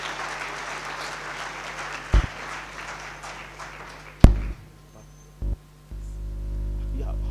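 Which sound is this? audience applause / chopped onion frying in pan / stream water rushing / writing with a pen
audience applause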